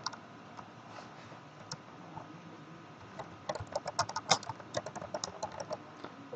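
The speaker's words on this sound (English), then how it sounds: "I'm going to type my name." Someone types on a computer keyboard, first with sparse clicks, then with denser, quicker keystrokes building toward the end. The taps are close, light and crisp over a faint steady background hum.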